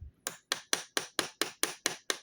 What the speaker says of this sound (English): I should have been reaching for tiny hammer